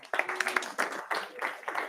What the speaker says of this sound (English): Can we have a round of applause for the panelists?